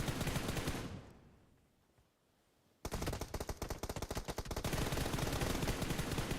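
Automatic gunfire in PUBG Mobile during a competitive battle-royale scrimmage, loud bursts fading into a near-silent gap, then resuming as rapid, dense volleys of shots that continue to the end.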